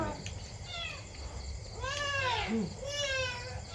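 Several rising and falling cat meows, fairly close, over a steady background hum of insects or crickets.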